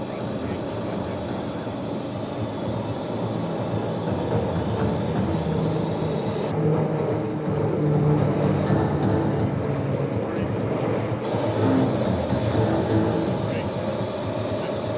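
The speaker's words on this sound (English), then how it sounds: "From your left, ladies and gentlemen, members of VT-27, the T-6 Texan IIs." T-6 Texan II turboprop trainers of training squadron VT-27 fly past at the 2025 Wings Over South Texas air show, a sustained engine drone swelling midway under faint announcer-style voices.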